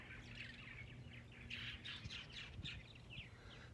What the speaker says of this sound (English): And you can hear the birds singing again.